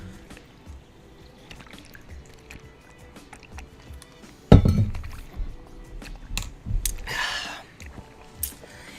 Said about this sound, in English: So yeah, paddling down the beach